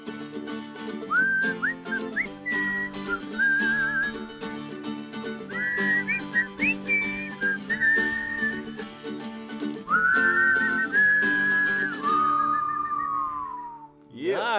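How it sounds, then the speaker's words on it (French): Several people whistle a melody together in repeated rising and falling phrases, close and fairly loud, ending on a long sliding note, with background music or hum beneath. "On va siffler une dernière fois comme des Mongols."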